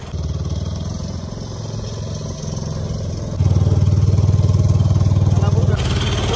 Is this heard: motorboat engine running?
yes